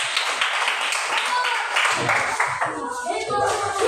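Classroom students give a burst of clapping for a presenting group, a crackly flurry of hands that fades in the second half as voices take over.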